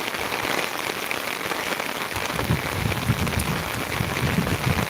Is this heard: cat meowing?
no